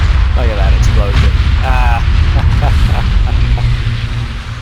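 Space battle explosion in the Battlefleet Gothic: Armada 2 video game, a loud booming burst over a rumbling low bed, with someone talking over it throughout.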